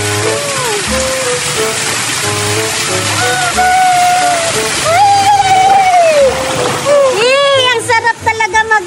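Splashing water as someone slides down a water slide into a swimming pool, loud continuous splashing and rushing water with a voice and whistling tones over it, ending in choppy bursts.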